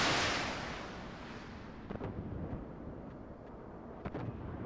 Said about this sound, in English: Now I move over here to see if I can fling a missile down range for a long-range missile hit